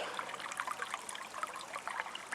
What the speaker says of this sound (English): the stream's even deeper than it was last weekend